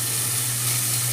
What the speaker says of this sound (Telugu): ఉల్లిపాయ వేయాలంటే కాస్త సమయం పడుతుంది, వేగిపోతుంది